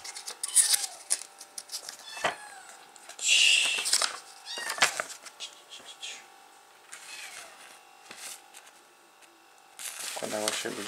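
Cats meow for attention in a quiet room, several short mews and higher cries spread across the stretch, close by, with soft rustling between them.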